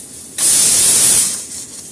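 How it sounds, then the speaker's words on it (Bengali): A pressure cooker on a gas stove cooking lentil dal vents steam in a loud, steady hiss that bursts in suddenly, holds for about a second and then tapers off into a softer rush. "এটা সিটি উঠতে থাকুক, সিটি ওঠা পর্যন্ত অপেক্ষা করব।"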